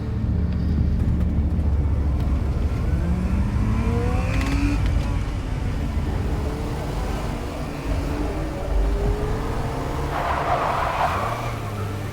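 A car drives in Life is Strange: Reunion, its engine droning steadily with rising and falling pitch sweeps and a skid-like hiss near the end, loud and continuous.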